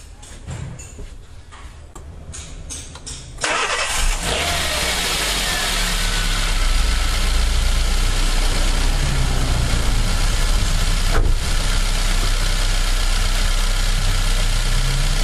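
A Chevrolet Aveo's engine cranks with a burst of starter noise and catches, then settles into a steady, loud idle that runs on alone for several seconds with a faint ticking beneath it.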